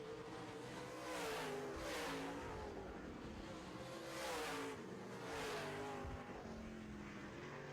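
Modified race cars roar around an oval track in heat races, engines rising and falling as they sweep past in repeated waves, loud and close, with a steady engine drone between passes.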